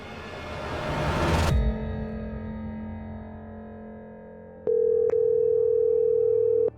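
A telephone call rings out and forwards to an automatic voicemail system: a loud burst of noise cuts off into a faint fading hum, then a steady electronic tone sounds for about two seconds.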